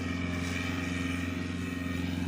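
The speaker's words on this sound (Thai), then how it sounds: "ตอนนี้รถไถหน่อยกำลังติดตมครับ" A small Kubota farm tractor stuck in mud, its engine droning at a steady, fairly faint idle-to-working pitch with no speech, a continuous low mechanical hum throughout.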